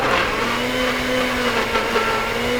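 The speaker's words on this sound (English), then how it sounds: "Okay, back in the blender." A countertop blender runs steadily on mush pie ingredients, a loud continuous motor whir with a constant hum and slight fluctuations throughout, close by and with no talking.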